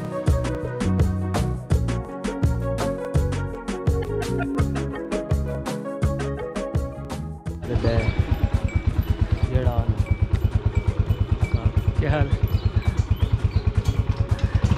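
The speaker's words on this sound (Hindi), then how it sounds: "चले जी बाइक आ गई और हम निकल रहे हैं सफर।" A motorcycle pulls up in Karriala village, Chakwal, its engine settling into a steady, close idle after a stretch of louder mixed background sound.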